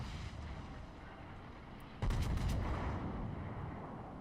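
A deep booming salvo from battleship guns in World of Warships erupts midway, a heavy low rumble over steady ship and sea ambience, with no voices.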